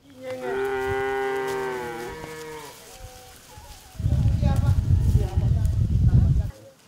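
Cows waiting for vaccination against East Coast fever moo in long, loud, drawn-out calls, followed by a stretch of dense, rumbling herd noise and shuffling nearby.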